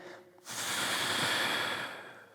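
A single audible inhale through the nose during a mobility stretch, a soft airy rush lasting over a second, close and quiet with nothing else around it.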